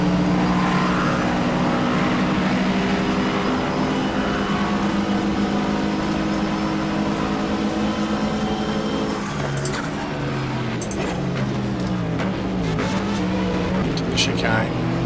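Race cars roar past on the Daytona circuit during the 1995 24-hour endurance race, with a Porsche and a Camaro among them. Steady, loud engine drone holds throughout, and a voice talks over it.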